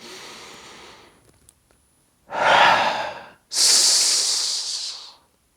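Breathing during a shoulder-release floor exercise: a soft exhale, then a pause, then two close, strong, airy breaths, the last a long hissing one that trails off.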